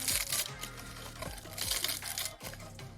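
Paper honeycomb packing wrap crinkles and rustles as it is stretched, a close, continuous crisp crackling in bursts with brief pauses between pulls.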